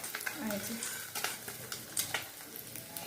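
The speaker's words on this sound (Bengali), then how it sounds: "খুব বেশি ভাজবো না, একটু একটু ভাজতে হবে।" Pabda fish frying lightly in a pan: a steady close sizzle with scattered spatters and the scrape of stirring over about three seconds, no voices.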